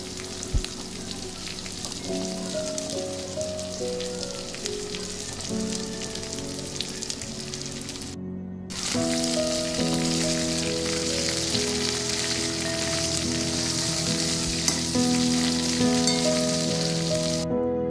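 Okra fries in a pan with green chilli and garlic, a continuous loud sizzle and crackle lasting throughout, with a brief cut partway and steady bubbling hiss after, no speech.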